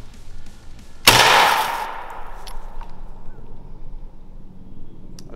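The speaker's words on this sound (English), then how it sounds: "let's just shoot this 12 gauge flechette into raw meat and sugary internal organs" A 12 gauge shotgun firing a flechette round into raw meat and internal organs, a single loud sharp blast that decays over about a second, with quiet background before and after.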